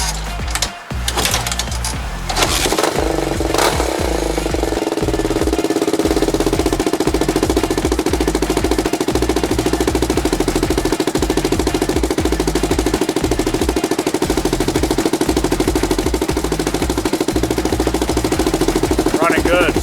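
A Honda 350X motorcycle engine idles after a carburetor rebuild, a loud steady close-up chugging with even rhythm after a brief rev at the start, alone without talk.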